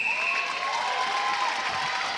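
A netball grand final crowd applauds and cheers after an umpire's call, a steady wash of clapping and voices in a large venue with some whistle-like tones near the start.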